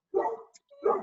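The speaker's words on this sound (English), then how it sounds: "oh, sorry, that's my dog." A dog barks twice, close and fairly loud, during a Board of Health video meeting, two short separate barks with a brief gap between them.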